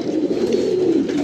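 A Faqeer Gul pigeon coos up close, a single low, throaty rolling coo held for about a second, clear and loud with no talking over it.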